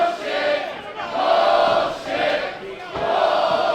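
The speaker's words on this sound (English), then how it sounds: "And the Hardywood crowd letting the delinquents as Isaiah Frazier know what they think." A wrestling crowd at a Hardywood show loudly jeers and shouts at a pair of heel wrestlers, a dense, swelling roar that rises and dips in waves and has no commentary over it.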